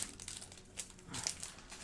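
Score tape being pulled out and handled: close crinkling and rustling with a few sharper peeling crackles, fairly steady throughout, no talking.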